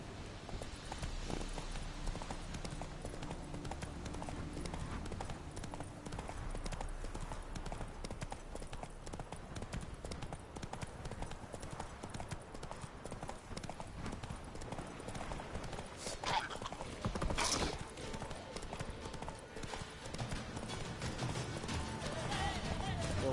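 Rhythmic clip-clop of galloping horse hooves in the video game Witcher 3 runs continuously, loud and steady, with a voice talking over parts of it.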